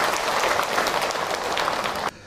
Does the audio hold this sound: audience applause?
yes